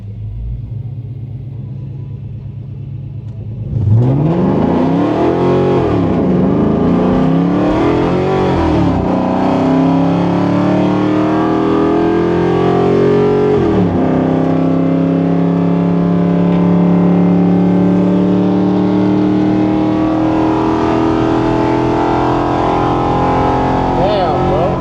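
A turbocharged car accelerates hard in a roll race, its engine note climbing through gears with a loud, sustained rumble and rising whine from close by after a quiet start, and people talk over it.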